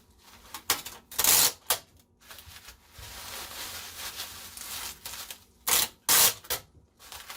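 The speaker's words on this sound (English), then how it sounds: "So we'll tape this." Packing tape pulled off the roll and pressed onto a cardboard shipping box, with sharp loud ripping bursts near the start and again near the end and softer rubbing and pressing between them, close by.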